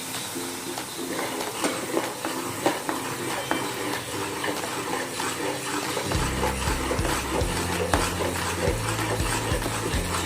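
A Mysore pak mixture is stirred with oil in a pan, giving a busy, continuous scraping and bubbling texture with scattered clinks, fairly loud throughout and with no talk.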